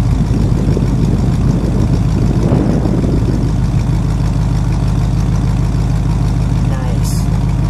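Steady low idle of a 1955 Dodge Royal Lancer's engine running after sitting unused for a while, a continuous close, loud rumble that carries on throughout.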